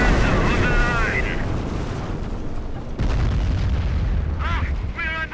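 Gunfire and heavy explosions in the World War II strategy game Company of Heroes with the Blitzkrieg mod, a loud rumbling barrage of booms and shots under shouted soldier voices.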